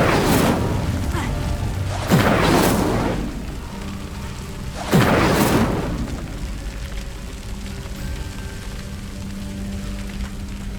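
Two bursts of the Incendio fire spell cast in Hogwarts Legacy, each a loud whooshing flare of flame that fades into crackling over a low game ambience.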